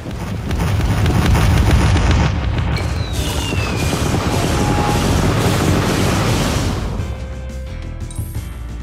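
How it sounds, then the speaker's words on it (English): Cannons fire in the video game Sea of Stars, a dense, loud barrage of deep booms and crashes rolling for several seconds before easing off, with game music underneath. "Cannons!"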